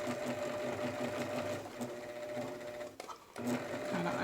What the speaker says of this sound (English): I'm going to put the presser foot back down and stitch back the way we came.